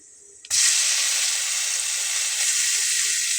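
Turmeric and salt dropped into very hot oil with kalonji, a sudden loud hiss that settles into a steady, close sizzle, no voices.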